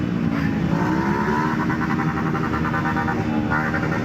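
Motorcycle and car engines from a night-time victory convoy of Persib Bandung football fans rolling through Bandung streets, a continuous loud drone of exhausts with some revving, crowd noise mixed in.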